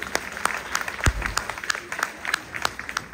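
Audience applause breaks out at a Brahmin community women's gathering, a dense wash of many hands clapping with sharp individual claps standing out, steady and fairly close through the whole stretch.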